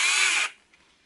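A HYCHIKA DD18F cordless drill driver whirs at a steady high pitch for about half a second, then cuts off abruptly into near silence, close and loud.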